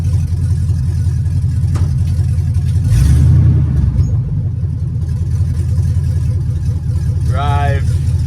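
A 1965 Chevrolet C10 pickup engine idling in neutral, a steady low rumble with a brief louder surge partway through, plus a short voice-like sound near the end.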